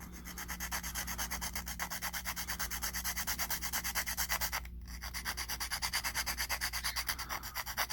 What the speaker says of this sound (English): But you see minimal filing.